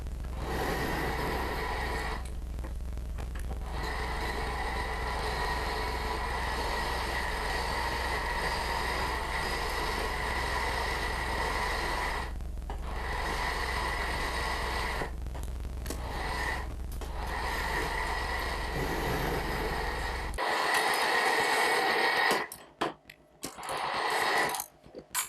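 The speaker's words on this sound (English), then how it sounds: "The method I used to cut the slots was the two-bladed hacksaw method." A two-bladed hacksaw cuts slots into steel screw heads in a home workshop, a steady rasping stroke that runs on for about twenty seconds with brief pauses before stopping and giving way to scattered clicks.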